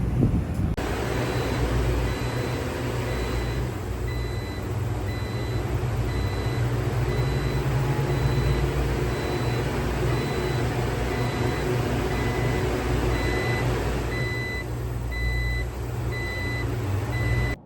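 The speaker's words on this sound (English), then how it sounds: "the fan motors keep turning off and on, off and on, off and on" Condenser fan motors on a beer cooler that is not getting cold run as a loud, steady mechanical drone with a constant hum, with only slight level shifts as they cycle, and no talk over it.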